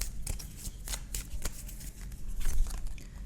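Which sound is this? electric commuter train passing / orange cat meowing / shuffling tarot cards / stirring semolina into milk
shuffling tarot cards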